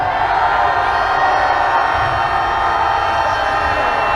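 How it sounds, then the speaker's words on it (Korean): A loud protest crowd roars together outside the Foreign Ministry in Korea, a sustained mass shout of many voices that holds steady and close throughout. "외교부를 바라보고 함성을 질러주십시오. 함성 시작!"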